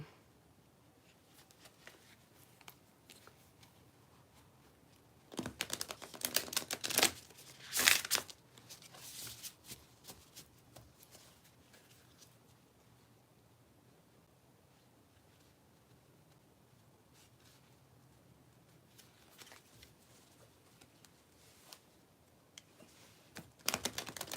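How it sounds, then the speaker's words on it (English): A deck of cards is shuffled indoors in a few bursts of quick riffling and crisp flicking, loudest in the middle, separated by quiet stretches with faint handling noise and no talking. "I'm gonna shuffle some cards and see what comes up."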